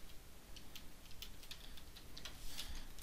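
Soft keystrokes on a computer keyboard as a web address is typed into a form field, a quiet, irregular run of light clicks with no voice.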